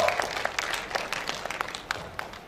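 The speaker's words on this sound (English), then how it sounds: "Another round of applause to our paper presenter" Applause for a paper presenter at a judges' refresher course on ADR, a fairly light patter of clapping with distinct individual claps standing out, moderately close and steady for a couple of seconds.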